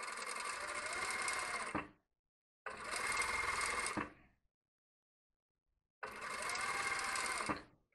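A sewing machine runs three steady bursts of about two seconds each, with short silent gaps between them, stitching a narrow rolled hem along the frayed raw edge of fabric. The machine sounds close and clear, and no one talks over it.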